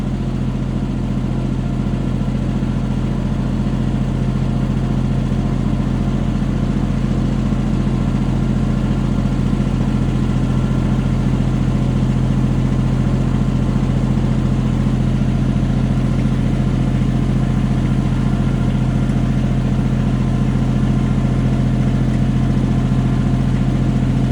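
A Kubota tractor fitted with a rear-mounted bucket runs at a steady idle throughout, its engine drone continuous and fairly loud with no voices and no change in pace.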